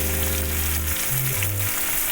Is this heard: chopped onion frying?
yes